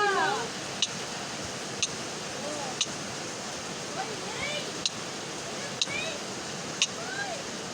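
Rain falls in the video game Minecraft as a steady, broadband hiss that fills the whole stretch. Sharp clicks recur about once a second, and a voice talks over it.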